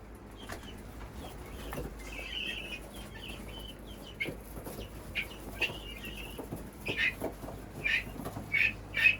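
Chickens mixed with newly arrived guinea hens cluck and chatter near their coop at dusk, short bursts growing louder and more frequent toward the end over a steady outdoor background.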